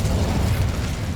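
An Incendio fire spell in Hogwarts Legacy bursts in a brief, loud, rumbling whoosh of flame, a dense roaring blast that fills the moment on its own.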